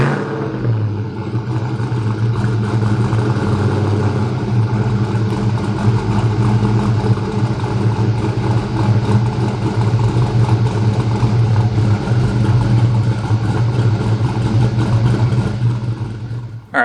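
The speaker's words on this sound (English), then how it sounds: "I'll prime it a few more times and then start her up." A Ford Mustang engine, just fitted with a new fuel pump, starts and runs steadily up close, a loud continuous mid-pitched idle with a faint rattle that holds until it cuts off at the end.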